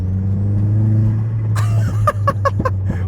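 An old cheap car's engine idles with a low steady drone, then rattles and clatters in a quick series of loose knocks near the end.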